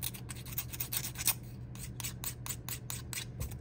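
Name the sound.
roughening a metal head pin with an emery board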